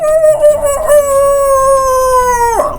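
A rooster crows loudly and alone in one long drawn-out call with a falling tail at the end.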